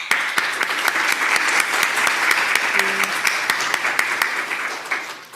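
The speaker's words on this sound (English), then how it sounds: "let's give them a round of applause." A room full of people applauds the presenters at the close of a medical device regulator training session, a steady dense clapping that holds loud for the whole stretch and eases slightly at the end.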